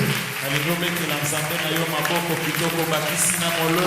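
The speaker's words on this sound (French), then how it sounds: "J'aimerais que tu applaudisses bien ton Dieu." A church congregation claps in praise to God during a French-language worship service, the clapping blended with sustained singing or chanting voices and music over the whole stretch.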